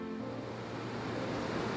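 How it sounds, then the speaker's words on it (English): The Thamsa River in the Himalayas rushes in a steady, loud broadband roar of fast-moving water, constant and close, with no voices over it. "And then, the Thamsa River appears."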